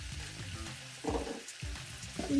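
Omena (small fish) frying in a pan with tomatoes and salt, a steady sizzle with bubbling bursts rising and falling, close and moderately loud with no talking.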